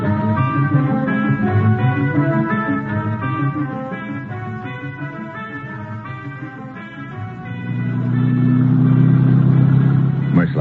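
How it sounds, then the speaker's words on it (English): A car pulls away in an old-time radio drama, its engine rumbling under a musical sting before swelling louder as the car accelerates off. "Merslag and I head out in his auto."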